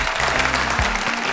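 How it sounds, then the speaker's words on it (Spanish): A dense, loud wash of audience applause fills a brief moment at a reggae awards ceremony, many hands clapping together with no pauses. "Por favor, fuerte ese aplauso."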